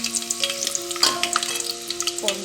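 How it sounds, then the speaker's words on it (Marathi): Garlic frying in a pan for a prawn masala rice dish, a steady crackling sizzle with small pops, close up, plus faint stirring clinks and a few tonal whines over it, no talking. "लसूण असला मस्त फ्राय करायचा छान लागतो"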